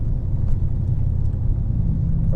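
A 2008 Chevy Silverado 1500, freshly fitted with a new water pump after overheating, drives around the block with a low, steady engine rumble and road drone from inside the cab.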